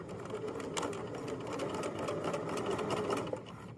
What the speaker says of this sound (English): So I'm going to backstitch and I'll sew to this first dot.